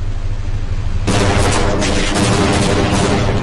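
Enemy gunfire in the game Half-Life: Blue Shift erupts suddenly after a second of low droning ambience, then rattles on as a loud, dense run of shots and impacts with no talking.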